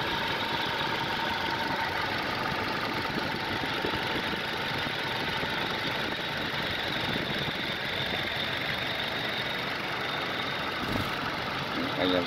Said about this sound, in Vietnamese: Máy nổ rất êm luôn. Đấy, máy không rung lắc